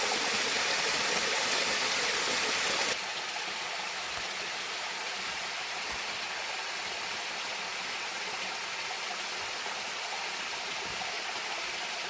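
Water rushing in a remote mountain valley stream, a continuous broadband hiss and gurgle, close and steady, louder in the opening seconds before settling to an even flow, with no voices.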